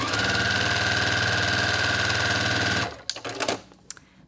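Sewing machine stitching a quilt block, running in a steady fast buzzing whir with a high whine for about three seconds, then stopping, followed by a few faint handling clicks and rustles.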